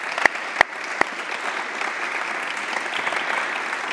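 Lecture audience applauding after a presentation, opening with a few sharp individual claps that swell into a steady, even round of clapping from the room.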